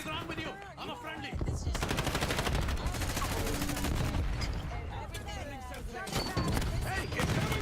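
Rapid automatic rifle fire and scattered shots in a Black Ops 6 multiplayer match, loud and nearly continuous across the span, with game voices and player talk mixed over the shooting.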